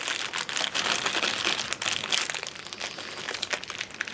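A plastic bag crinkling continuously while a box holding model tank tracks is opened, a close, busy rustle of crisp crackles without pause.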